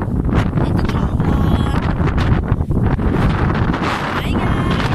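Strong wind buffets the microphone in a steady, loud roar with gusty rustling throughout on High Junk Peak, no other sounds standing out.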